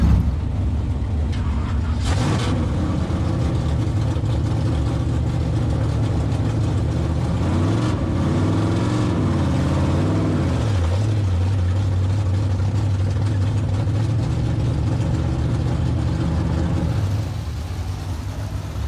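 A B-mod race car engine at Springfield Raceway runs steadily and loudly for the whole stretch as it heads out for the first heat race, with a rising and falling rev partway through and brief muffled voices mixed in.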